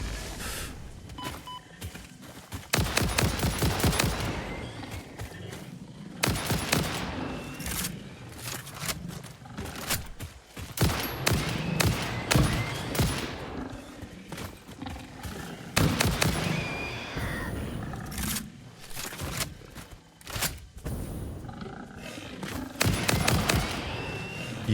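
Gunfire in the game Satisfactory, repeated bursts of rapid shots in clusters separated by short pauses, loud and close over a dull background.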